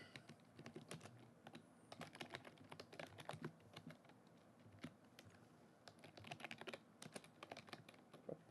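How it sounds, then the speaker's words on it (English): Steady typing on a computer keyboard, quiet and close, with rapid irregular clicks in bursts and brief pauses. "Can you hear me typing?"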